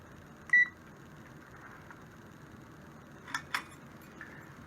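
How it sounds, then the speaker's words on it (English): An electronic timer sounds as it is switched on in a cellulose versus fiberglass insulation test under a heat lamp: one short beep near the start, then two quieter blips later over a faint steady background hum. "So what I'm going to do is turn on this timer."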